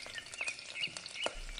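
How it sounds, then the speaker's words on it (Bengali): Fish frying in a pan on a kitchen stove in a cartoon, giving a steady, close crackling sizzle with small pops throughout a short stretch and no voices. "কালটুর মা চুলোতে মাছ ভাজছে।"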